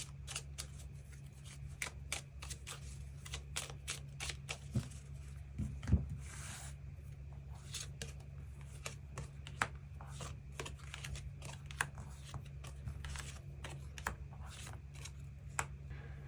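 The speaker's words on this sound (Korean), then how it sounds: "그럼 8번 분들 추가 카드로 일별로 월요일부터 일요일까지 어떤 하루를 보내게 될지 추가 카드 뽑아보도록 하겠습니다" Tarot cards being shuffled and drawn at close range, a long run of quick, crisp card snaps and flicks over a low steady hum, with no talking.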